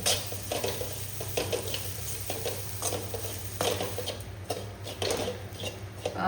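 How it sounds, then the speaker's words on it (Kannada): Grated coconut being stir-fried in a pan for a beans sukka, with a soft steady sizzle and repeated scraping stirs of a spoon against the pan at moderate volume. "ಬೇಕಾದಷ್ಟು ತೆಂಗಿನ ತುರಿ ಹಾಕ್ಕೊಂಡು ಸ್ವಲ್ಪ ಫ್ರೈ ಮಾಡು ನೋಡಿ"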